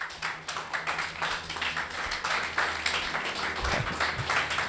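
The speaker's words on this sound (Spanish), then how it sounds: "Aplauso para Jesús." Steady applause from a church congregation, moderate in level and continuous across the stretch, with no voices standing out.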